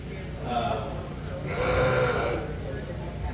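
Polled Dorset sheep at a show give two clear bleats about a second apart, fairly close and moderately loud, over a murmur of background noise.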